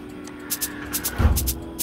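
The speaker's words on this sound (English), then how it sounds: "So this is it for the first two shakers, and it sounds like this." Two programmed Afrobeat shakers play a loop in FL Studio, giving crisp, close, rhythmic bursts of rattling hiss in a steady repeating pattern, with a low thump near the middle.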